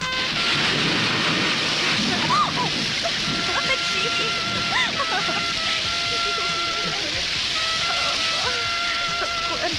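Steady rain and thunder form a dense, even hiss that fills the whole stretch at moderate level, with faint thin chirping tones running over it.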